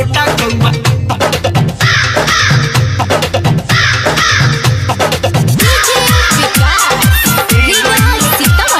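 A crow caws repeatedly in harsh, rhythmic bursts set against a loud devotional Bhojpuri song with busy percussion and instruments.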